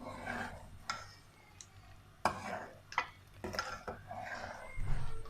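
A spoon stirs custard in a pot for a fruit custard trifle, giving light intermittent scrapes and clinks against the pan at a quiet, close level, with a few sharper taps among soft continuous mixing.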